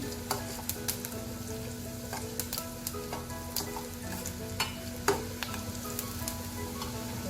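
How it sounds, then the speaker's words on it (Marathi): Onion sautés in a pan before tomato goes in, giving a dense, close sizzle with repeated stirring clicks and spatula taps and a steady hum underneath. "कांदा छान परतून घेऊ आपण कांदा परतून झाला की आपण त्यात टोमॅटो घालून"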